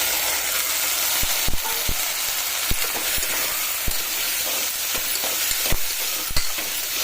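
Chopped bottle gourd fries in a pan with a steady loud sizzle, broken by repeated scraping strokes of a stirring spoon, close up and with no voices.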